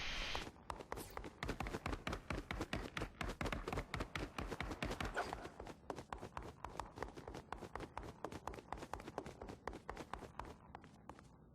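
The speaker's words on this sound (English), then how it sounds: "This is what the high heel boots are supposed to sound like." Rapid, evenly spaced hard footsteps from high heel boots in the Fortnite video game, a crisp continuous run of clicks that stays loud throughout with no voices.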